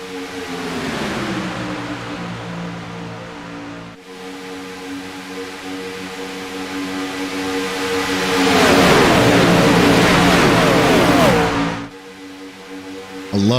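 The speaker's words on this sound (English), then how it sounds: "These cars sound amazing. Screaming around here at 200 miles an hour." Race cars scream around a track at about 200 mph, a loud sustained engine howl with shifting harmonic tones that swells to a roaring pass before dropping away, with another surge at the very end.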